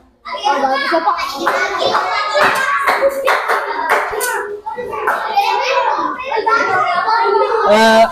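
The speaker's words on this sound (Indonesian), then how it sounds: "tepuk tangan untuk kelompok 1" Children in a classroom clap for a student group, quick scattered hand claps mixed with lively kids' chatter and voices close by.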